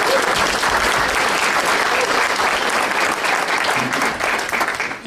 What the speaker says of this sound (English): give him a round of applause for what he does.